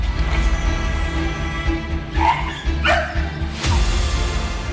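A Golden Retriever whimpers and yips in short bursts as it is beaten, with a few barks rising over a continuous low background hum.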